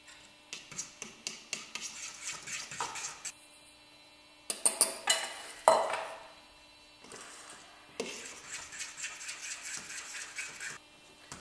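Dry ingredients mixed a little at a time into a thick avocado bread batter with almond milk, giving quiet, rhythmic rubbing and scraping strokes in bursts separated by short pauses.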